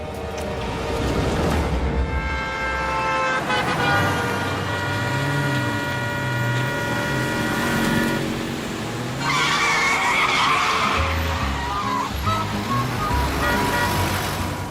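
Children imitate vehicle sounds with their voices in an animated Shaktimaan episode, producing wavering engine-like hums, skidding screeches and beeping tones that overlap continuously, loud and close.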